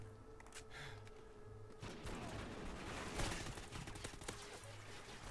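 Rapid bursts of gunfire from a Call of Duty: Ghosts multiplayer match, a dense rattling fusillade over a busy, muffled game mix, fairly faint and continuous.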